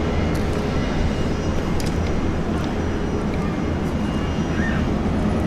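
Propeller aircraft taking off from runway 19 left at Brisbane International Airport, a loud, continuous engine roar that stays close and steady throughout, with no talk over it.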